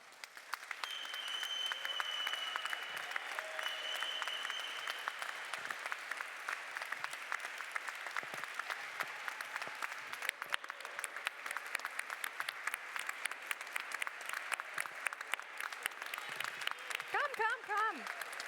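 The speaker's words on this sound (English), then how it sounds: "we can give you a really big applause" Sustained, dense audience applause for the European Bauhaus and organization team on stage at a panel wrap-up event, steady and loud throughout, with a brief voice near the end.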